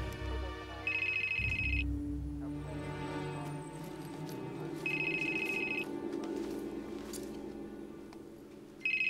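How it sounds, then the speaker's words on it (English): A cell phone rings twice in a 1999 action thriller, each a clear electronic trill of about a second, heard over a low droning background score. "Calling your cell phone now."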